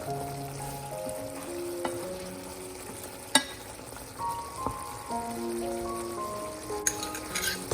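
Air-fried baby potatoes stirred in a pan, soft scraping and occasional sharp clinks of the utensil over a faint steady sizzle, close and without speech.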